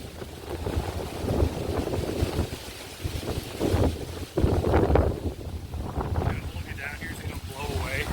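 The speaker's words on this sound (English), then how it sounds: "The wind's picked up a bit" Strong wind buffets the microphone outdoors beside an old building, roaring in loud gusts and rumbles that rise and fall, with a person talking under the noise.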